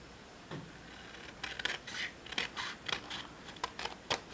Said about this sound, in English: then we're going to take our scissors